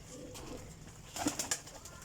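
Brief soft coos and calls from a fancier's pigeons, including a teddy pigeon, with a short louder cluster of bird sounds midway against quiet background noise.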